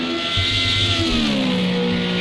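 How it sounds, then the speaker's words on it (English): Racing car engines rev loudly in a sim racing game at Laguna Seca, with rising and falling harmonic whine as cars accelerate and shift, steady and close throughout. "It's these cars sound absolutely glorious."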